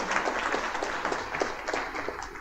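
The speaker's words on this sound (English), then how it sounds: "But once again, let's give Melody Golding a round of applause." Brief, moderately quiet applause from a museum lecture audience, a light patter of clapping hands lasting a couple of seconds.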